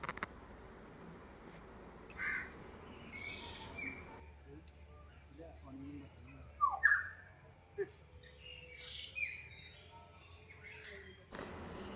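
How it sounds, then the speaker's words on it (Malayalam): Birds call outdoors, with scattered chirps and short whistled notes over a steady insect drone, fairly faint and set at a distance, with no voices. "ആദ്യമേ കിളികളുടെ ശബ്ദങ്ങൾ കുറച്ച് കേൾക്കാം."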